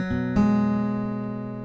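A single plucked acoustic guitar chord rings out clearly, then a second note is picked and sustains as it slowly decays, playing a fingerpicking pattern, with no talking.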